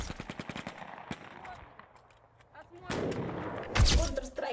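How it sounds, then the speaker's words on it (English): Machine gun fire at a military shooting exercise, with rapid bursts of shots that grow louder and denser toward the end, echoing against background noise. "He sure knows how to shoot"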